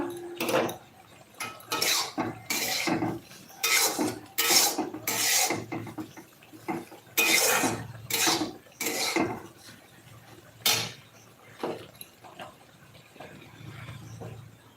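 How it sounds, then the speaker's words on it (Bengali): Metal spatula scrapes and clatters in bursts against cooking pots while egg curry and fried potatoes are made, an uneven rhythm of close, fairly loud strokes with short pauses between them and no talking. "রান্না করছি ডিমের ঝোল আর আলু ভাজা"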